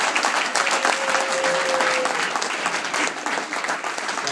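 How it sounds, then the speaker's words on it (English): Sustained applause from a large crowd filling a hall at an international night celebration, steady dense clapping throughout with a faint whistle-like tone early on. "give a big round of applause to the OIE for arranging such a beautiful event"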